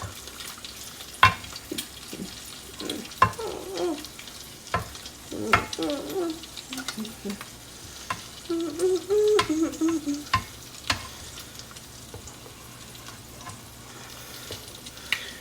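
An egg fries in a pan on a hot plate, giving a soft sizzle beneath intermittent scraping and clattering of utensils, with sharp clicks and a few low rumbling bursts.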